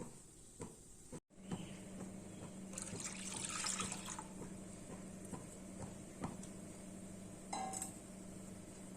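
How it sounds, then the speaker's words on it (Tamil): Water is poured and splashes into milk in a pan nearby, with a few clinks and a brief gurgle over a low steady hum; no one speaks. "அரை பங்கு தண்ணி விட்டு இதில் சேர்த்துக்கலாம்"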